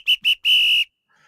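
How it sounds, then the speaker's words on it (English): A referee-style whistle blown to end a game after stoppage time: two short sharp blasts followed by one long sustained blast, loud and close, with no talk. "I'm gonna blow the whistle"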